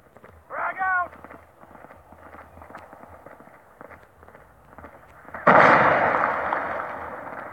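Frag grenade blast in the Call of Duty Mobile game, a loud sudden burst at the end that decays into a rumbling tail, preceded by quieter game sounds and a brief shouted callout.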